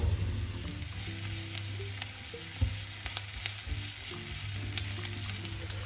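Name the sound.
onion frying in a pan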